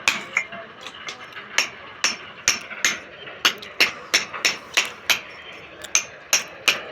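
A hammer strikes repeatedly during light fitting work, about fifteen sharp metallic knocks landing at an uneven but steady pace, close and clear over faint background noise.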